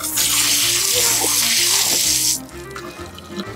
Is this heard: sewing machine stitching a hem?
no